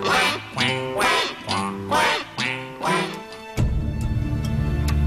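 A goose honks repeatedly, five or six loud nasal calls in a steady rhythm close by, followed by a burst of broadband background noise.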